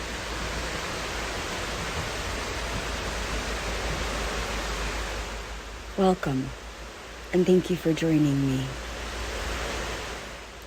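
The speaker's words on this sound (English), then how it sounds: "The water that you hear in the background is from a stream." A stream's flowing water makes a steady, even rush that carries on without a break, with someone speaking briefly partway through.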